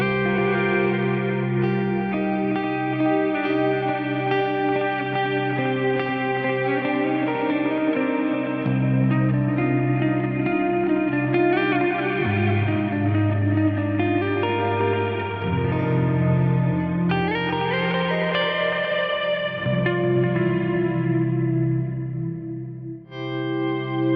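Clean electric guitar through an Eventide H9 Black Hole reverb and stereo delay, with a Fractal Audio AX8, playing sustained chords that swell into a lush, dense ambient wash, loud and continuous with no talking.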